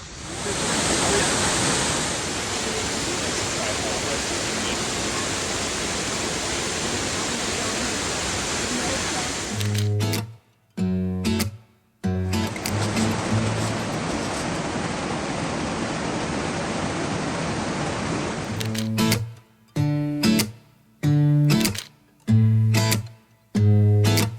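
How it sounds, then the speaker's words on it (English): Steady, loud roar of waterfalls fills most of the stretch beside a portage trail on the Border Route Trail, broken near the end by choppy bursts of voices and handling noise. "It's a short portage trail here going off the main trail that we can see the waterfalls from."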